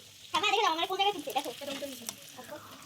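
Spinach and pea kachori fry in hot oil with a soft, steady sizzle running underneath a person talking close by.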